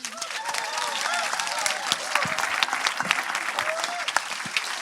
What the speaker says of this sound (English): can we keep the round of applause going for all of our speakers?